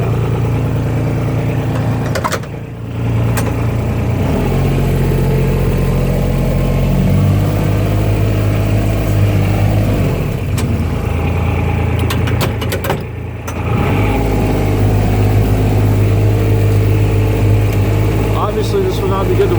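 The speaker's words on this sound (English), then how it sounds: "this little off-road vehicle is really going to serve its purpose and get us up close to the edge" A small off-road vehicle's engine runs at a steady, close, mid-pitched drone and hum, dropping briefly twice before picking back up, with talk over it.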